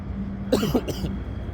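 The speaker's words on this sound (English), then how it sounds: "I feel a cough brewing" A single short cough, two quick rough bursts close to the listener, over a low background hum.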